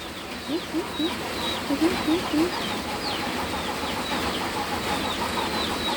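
Chickens cluck in short repeated bursts over a steady outdoor background, with higher bird chirps scattered throughout.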